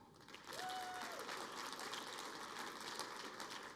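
An audience claps together to cast a vote for a contestant at a pitch competition, a broad, steady wash of applause lasting several seconds, fairly faint and distant, with no talk over it.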